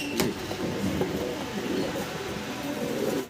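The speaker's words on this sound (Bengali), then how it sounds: "খুব চমৎকার এখানে একটা জোড়া আছে ড্রাগন কবুতরের" A pair of Dragon-breed fancy pigeons coo at a breeding farm, soft repeated throaty calls rising and falling close by, with faint background noise and no talk.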